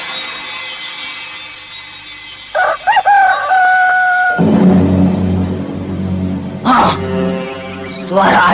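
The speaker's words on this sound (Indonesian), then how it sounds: "Suara ayam berkokok." A rooster crows twice in a drama scene set at dawn, each call a loud, drawn-out cock-a-doodle-doo standing out over a low background hum, with clucking and rustling between.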